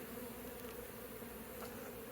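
Honey bees rescued from a structure by a pest removal crew, a steady dense buzz of many insects close by, continuous and alone with no talking.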